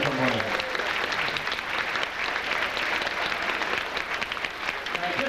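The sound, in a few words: audience applause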